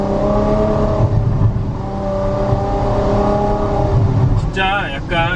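Ferrari 812 Superfast V12 accelerating through smooth dual-clutch gear shifts, a loud, steady engine drone rising in pitch with seamless changes, heard from inside the car with people talking over it.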